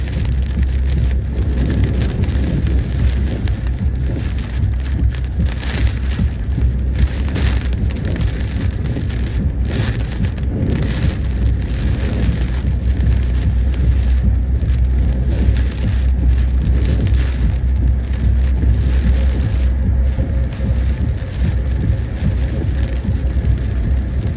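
Storm rain pours steadily onto a car, a dense, continuous drumming wash with low rumble underneath that holds at an even, loud level throughout, with no voices.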